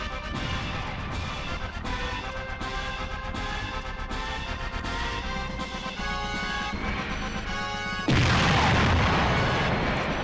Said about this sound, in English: Quality explosion.